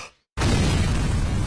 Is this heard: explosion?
yes